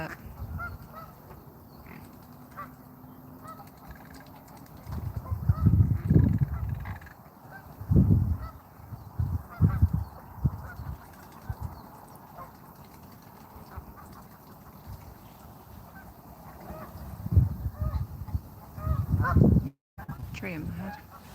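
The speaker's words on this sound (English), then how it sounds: "There's our black swan. Having a fight with a duck" Black swan honking loudly in bursts while fighting a duck on the water, with baby swans nearby; the harsh calls come in clusters over a steady outdoor background.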